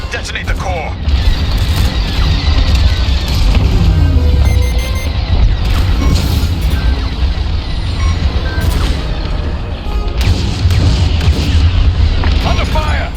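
Loud, sustained explosion rumble from a capital ship's core detonating in Star Wars Squadrons, heavy low booms rolling continuously with mechanical and battle noise layered over it and game voice chatter underneath.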